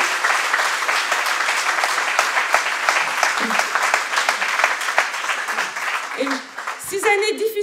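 An audience at a political speech in Vaulx-en-Velin claps in a steady, dense round of applause that thins near the end as a voice begins speaking over the last of it.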